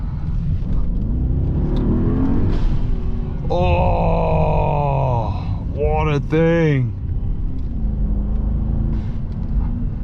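A 2023 Brabus Maybach GLS 900 Rocket, heard from inside the cabin, builds a low engine rumble with rising turbo whine while passing cyclists on the road; a person exclaims briefly over it.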